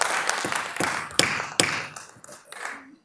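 Applause from an audience in a city council chamber, a short burst of scattered claps with a few sharper hits, fading out within a few seconds.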